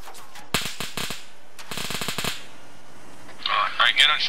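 Gunfire in the military shooter Arma 3: two quick bursts of automatic shots, rapid and fairly close, followed by a brief electronic chirping burst near the end.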